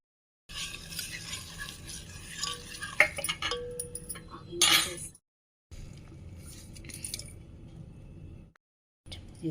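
Fried boondi gets stirred into hot sugar syrup in a pan for Telugu rice-flour laddus, giving soft wet squishing and dripping sounds with a few spoon clinks, broken by short silent gaps.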